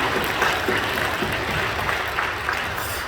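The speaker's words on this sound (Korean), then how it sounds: "우리 박수로 뜨겁게 격려해 주시고" Congregation applauding during a church worship service, a steady wash of many hands clapping at a fairly even level throughout, with faint voices mixed into the crowd noise.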